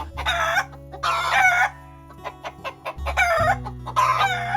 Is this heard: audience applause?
no